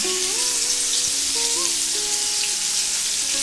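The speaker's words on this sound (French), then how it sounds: "Juste un peu d'huile. Et je mets ensuite les oignons découpés à l'émincé." Sliced onions frying in a little oil in a pan, a steady close sizzle with faint stirring, while tonal sounds in the background drift in and out.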